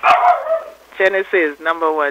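A dog gives a few short barks mixed in with nearby human talk, the yelps coming in brief bursts between spoken words.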